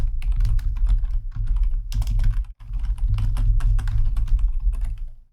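Rapid typing of JavaScript code on a computer keyboard, with dense, continuous close-up key clicks and one brief pause midway, no speech.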